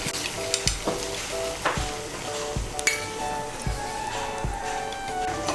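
Cumin and coriander powder paste sizzles in hot oil in a pan, a steady loud frying hiss with repeated clinks of a utensil stirring throughout.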